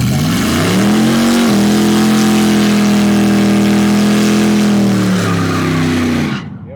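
A Chevy S-10 truck with a bad U-joint launches off the line at a drag race: a loud, sustained engine roar that rises briefly, holds a steady high pitch for several seconds, then cuts away abruptly.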